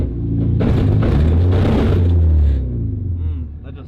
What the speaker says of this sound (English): So you guys want to hear some cool race car noises in my car?